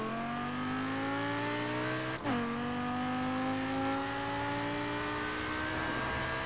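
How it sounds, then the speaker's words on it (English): A Lamborghini Gallardo in Forza Horizon 4 accelerates at full throttle, its engine note climbing steadily in pitch, dipping briefly at a gear change, then rising again loud and continuous. "I'm gonna floor it and see what this Lamborghini can do"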